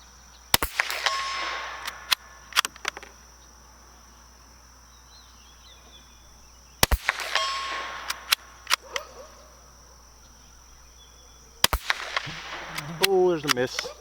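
Winchester Wildcat rifle fired offhand at a 100-yard target, three sharp shots spaced several seconds apart, each with a short ringing echo and a metallic target clang, followed by brief faint voices.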